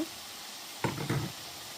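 Lentils (dal) hit hot oil in a pan with a short burst of sizzling and spattering that lasts about half a second and then fades. A faint knock comes with it and no one speaks.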